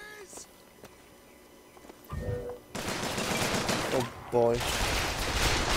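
Shotgun blasts in Bioshock Infinite, a dense burst of loud gunfire filling the second half of the clip amid battle noise, with voices talking over it.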